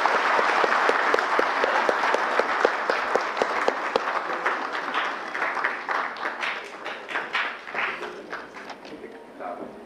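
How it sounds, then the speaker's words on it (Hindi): Loud applause from a workshop audience welcoming guests at a national Aadhaar service workshop, a dense sustained patter of many hands that thins into more distinct claps near the end. "जोरदार तालियों के साथ उनका स्वागत करें।"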